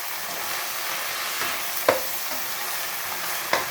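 Water spinach stir-fried in a wok over a portable canister gas stove, giving a steady close sizzle with a few sharp clinks of the utensil against the pan, no voices.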